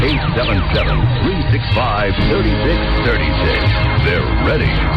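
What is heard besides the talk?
No everyday noises stand out.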